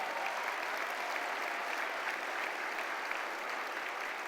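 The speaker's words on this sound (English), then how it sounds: "Give yourselves a round of applause" A crowd at an MLK holiday breakfast program in Minneapolis–St. Paul claps in steady, dense applause, sustained evenly from start to finish at moderate distance.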